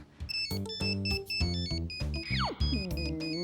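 A phone ringtone plays a bright electronic melody of repeating tones, loud and close, with a rising sweep partway through.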